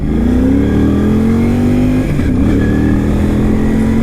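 A motorcycle engine revs steadily and loudly throughout, its pitch sliding up then dipping briefly before settling, continuous and close with no talk.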